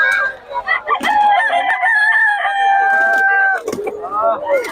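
A rooster crows loudly and close by at a chicken market, one long drawn-out call followed by the start of another, with faint clucking and voices around.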